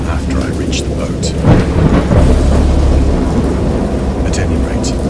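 In the horror video game Dagon, a thunderstorm rumbles with a deep roll of thunder over a steady wash of heavy rain, loud and close, with a swell of rumble near the middle.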